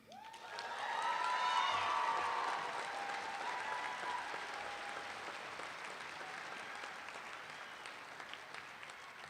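A graduation audience at Polaris High School breaks into broad, sustained applause, swelling early and then holding steady, with faint cheers mixed into the clapping of a large crowd and no speech over it.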